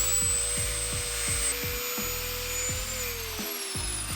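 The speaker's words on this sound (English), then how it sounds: "So I gotta cut a couple threads off that, like sloppy style, and then I'll bolt these in. Just whack it to her with the grinder." An angle grinder cuts threads off a bolt with a continuous, loud, high-pitched whine. A rhythmic pulsing runs through it and the pitch dips briefly as the disc bites into the metal.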